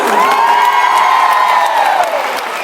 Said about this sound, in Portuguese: Quem gostou muito, grita.